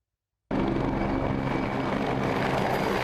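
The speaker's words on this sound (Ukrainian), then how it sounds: "Літаки, вертольоти в повітрі" Military aircraft and helicopters flying overhead at an army weapons display in Chernihiv region, a steady loud engine and rotor roar with droning tonal hum, continuous and unbroken after a sudden start.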